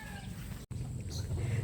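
Pullets and a rooster cluck in a farm pen, soft low clucking mixed with background noise and a faint voice nearby.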